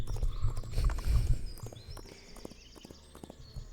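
Horse hooves clip-clopping in a video game, a quick run of soft hoof beats that fades, with faint chimes and effects behind.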